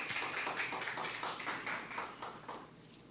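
An audience at a university lecture applauds the speaker, a dense spread of many hands clapping that fades slightly toward the end, without speech.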